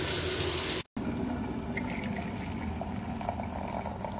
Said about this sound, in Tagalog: Lagay muna tayo ng tubig.